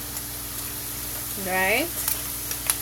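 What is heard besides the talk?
breadfruit frying in a pan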